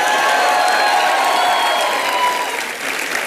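Studio audience of a comedy show clapping loudly and continuously, a dense wall of applause with some cheering mixed in, close and steady throughout.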